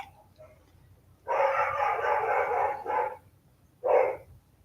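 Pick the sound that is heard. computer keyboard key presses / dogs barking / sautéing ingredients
dogs barking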